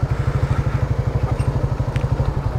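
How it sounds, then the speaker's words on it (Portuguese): A motorcycle engine idles close by, a steady low pulsing chug with even rhythm and no voices over it. "Vou parar a moto aqui, velho."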